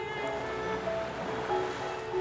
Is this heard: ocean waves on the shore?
yes